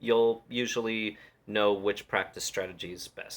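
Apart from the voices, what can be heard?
No distinct noise like a dog, phone or traffic.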